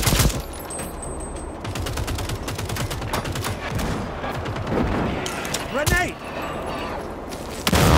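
Second Extinction co-op dinosaur shooter: dense, close rapid gunfire that runs almost throughout, with heavy impacts and a sweeping creature screech near the end and a voice talking over the action.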